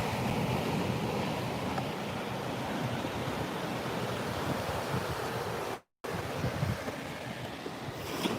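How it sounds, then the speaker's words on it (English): Big ocean waves break on a beach with clear water, a steady roar of surf with wind rushing across the microphone. The wash is continuous and fairly close, with a brief dropout partway through and no voices. "The waves are a little big today."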